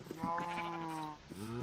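A Minecraft sheep bleats twice in the game, a drawn-out wavering call followed by a shorter one, clear and close.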